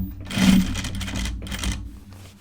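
A sewing machine stitches a pair of men's Jutland pants in one short, close burst of rapid mechanical clatter that fades toward the end.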